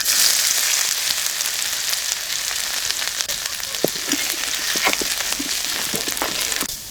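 Black cumin seeds and chopped ginger hit hot oil in a loud, close, continuous sizzle, with small pops and crackles scattered through it.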